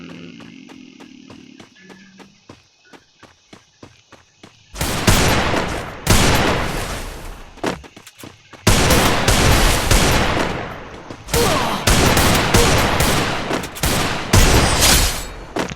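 Video game gunfire in bursts: a few quiet clicks and pops, then loud, rapid automatic volleys with short gaps between them. The shots are close and fill the sound without talk over them.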